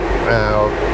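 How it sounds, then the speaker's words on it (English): A loud, steady whir of dyno-room cooling fans around a warmed-up car fills a short moment, a constant mechanical drone with a voice faintly present. "apologies for the noise of the fans in here"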